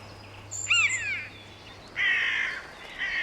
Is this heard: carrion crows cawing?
yes